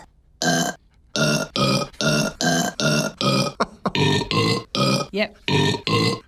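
Burps played as a tune on a burp piano during a radio quiz game, about a dozen loud, tonal belch notes in a rhythmic melody with short gaps, close and alone with no talk.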